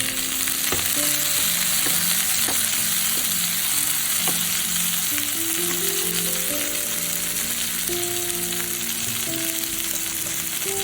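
Chopped tomato added to bitter gourd frying in a pan, a loud continuous close sizzle with occasional scrapes and taps of a spatula stirring throughout.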